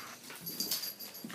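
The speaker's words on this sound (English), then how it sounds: "What are you barking at, huh?" A puppy makes a few short, soft yipping sounds, close by but fairly quiet, with no talking.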